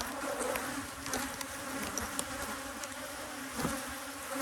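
Honey bees pour out of a hive in a dense, continuous buzzing swarm, steady and close, with individual insects flying past near the listener and no speech.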